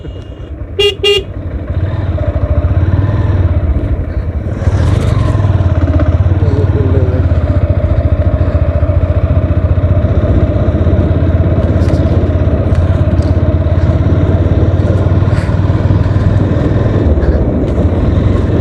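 A short horn toot, then a loud, steady motorcycle engine drones on without a break as the bike rides along a village road running through Indian territory on the India–Bangladesh border.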